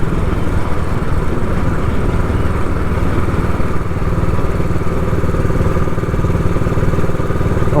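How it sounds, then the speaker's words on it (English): An old Royal Enfield motorcycle is ridden at steady speed, its engine thrumming loud and close in an unbroken drone, mixed with wind rush and rattling clatter, with no voices. "This old bike's alright, but not at low speed."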